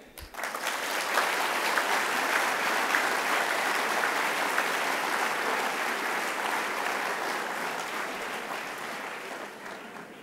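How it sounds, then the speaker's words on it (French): Sustained applause from a large audience at an ISEG Group graduation ceremony, steady and dense for about ten seconds, with no talk over it. "Aujourd'hui, jeunes adultes, ils méritent nos applaudissements et vous également."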